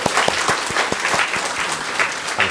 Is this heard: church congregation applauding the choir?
yes